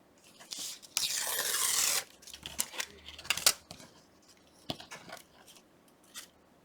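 Scissors snip through paper to make a journal pocket, giving a few close, crisp cutting strokes and rustles, one longer shearing pass followed by scattered light snips and paper handling.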